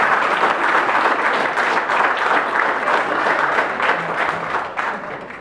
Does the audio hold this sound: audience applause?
yes